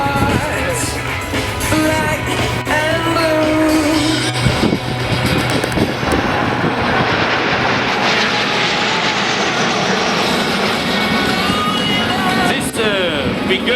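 Patrouille de France jets sweeping past at the Leuchars airshow, a loud, sustained roaring engine wash with wind buffeting that swells and holds throughout.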